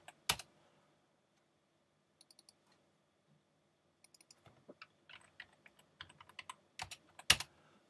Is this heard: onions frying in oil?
no